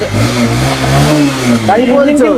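A 2015 Honda Shine CB motorcycle engine starts up and revs hard, with a close, loud, steady mid-pitched drone that rises and falls slightly before a voice cuts in.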